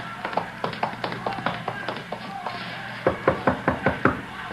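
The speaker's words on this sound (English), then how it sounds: "You're knocking the door." Knocking on a door at the back of a stand: repeated sharp raps in quick clusters, a lighter run of knocks followed by a louder, firmer series near the end, with no talk.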